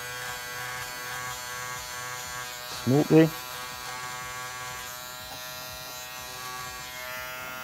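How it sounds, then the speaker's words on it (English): Electric hair trimmers buzz steadily and close up during a barbershop mid taper fade haircut, with a brief spoken remark partway through. "Now I'm going to use my trimmers"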